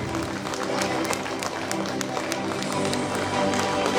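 Parents at a nursery and primary school annual day prize-giving clap together in a dense, continuous, even patter that holds steady from start to finish.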